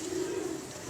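A pigeon coos in one soft, low, continuous call, close by and alone.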